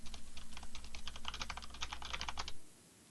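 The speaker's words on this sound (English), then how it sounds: "And my co-host Andy still typing away at his computer" Rapid, steady typing on a computer keyboard at an esports match, with close clicking keystrokes over a low hum that stop abruptly near the end.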